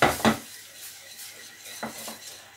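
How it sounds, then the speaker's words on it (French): A whisk works flour into choux dough in a pan, giving a few scraping, knocking strokes against the metal, with a quieter gap between the first strokes and the later ones. "Je rajoute la farine en une fois. Et je mélange à l'aide d'un fouet."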